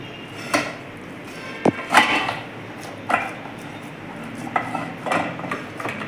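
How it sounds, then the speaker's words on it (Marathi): Cabbage and flour mixture patted by hand onto a sieve, giving a few soft irregular taps and clinks of the utensil, moderately close with quiet kitchen background. "आणि हे पीठ आपण असं चाळणीवरती आपल्याला थापून घ्यायचं आहे"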